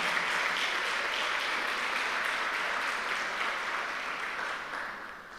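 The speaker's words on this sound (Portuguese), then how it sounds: "Igreja, vamos aplaudir Jesus pelos nossos visitantes," A church congregation at a Lagoinha Guarujá worship service claps together in a broad, sustained wash of applause that gradually tapers off at the end.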